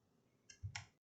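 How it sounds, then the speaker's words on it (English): Computer mouse clicks during computer-aided design work: a couple of faint, sharp clicks in quick succession within a second, close up and otherwise quiet. "And then we'll right mouse click"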